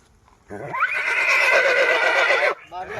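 A horse gives one loud, close whinny lasting about two seconds, with faint hoof clatter and voices around it.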